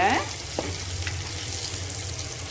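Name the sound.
sautéing shallots with asafoetida powder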